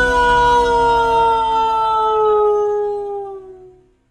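Dogs howl together in a long, sustained chorus of wavering tones that slowly glide downward and fade out, loud and close with no talking.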